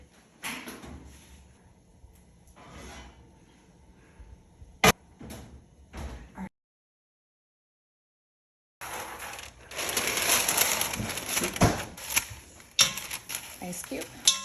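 In a kitchen, a Dutch oven is brought out: scattered clunks, knocks and rattling of cookware and cupboard, a short silent gap, then louder clattering and scraping, with speech faintly present.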